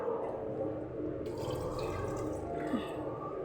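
Thin coconut milk is poured into a pot of mutton biryani, a soft, steady liquid trickle and splash heard close up over a low background hum.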